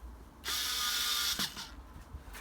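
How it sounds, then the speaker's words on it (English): A short whirring burst of a powered screwdriver driving a screw into a roll plug set in brickwork, running about a second before stopping, followed by faint handling clicks. "Just going to put these screws in temporarily"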